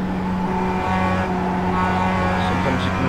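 A steady, close engine roar from a Mazda MX-5 Cup race car in iRacing holds high revs with small pitch shifts as it runs down the track, and a voice talks over it.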